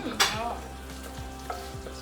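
Butter and a little oil sizzle in a pan, a steady close hiss with a brief clink near the start and soft stirring scrapes, no voices.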